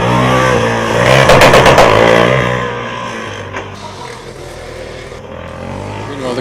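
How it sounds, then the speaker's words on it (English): A Formula Student combustion race car on an autocross lap at FSG21 roars loudly past with a harsh, revving engine note, then recedes into a fainter drone with scattered background noise. "the car in number 242 almost completing their lap with a great amount of noise"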